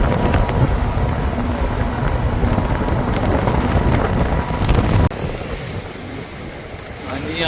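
A boat near Phi Phi Island, Thailand, slows down, its engine and rushing water heavy under gusty wind buffeting the microphone, then the roar drops suddenly to a quieter wash of wind and water.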